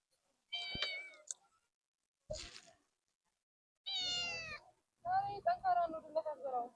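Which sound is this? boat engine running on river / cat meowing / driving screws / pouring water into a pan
cat meowing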